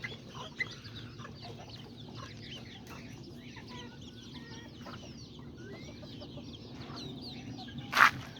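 Small hens and roosters cluck quietly in a pen, a busy scatter of soft calls over low ambient noise, with a brief sharp squawk near the end.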